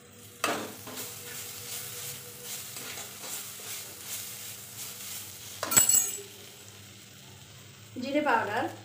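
Kashmiri chili and spices frying in hot oil for street-style ghugni, a steady soft sizzle with stirring scrapes and a clink of utensil against the pan near the end.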